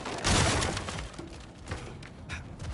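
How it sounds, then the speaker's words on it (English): In God of War Ragnarok, objects smash apart in a loud, dense crash of breaking debris that bursts at the start and then tails off into scattered rattling fragments. "back to smashing through things for fun and profit"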